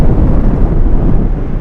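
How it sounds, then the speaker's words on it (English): Gusty wind buffets an outdoor microphone beside runway 15 at Anchorage airport, a loud, continuous low rumble that surges and flutters unevenly for the whole stretch, with no voices. "Gusty winds today, you guys."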